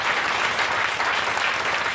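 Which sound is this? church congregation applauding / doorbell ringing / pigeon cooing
church congregation applauding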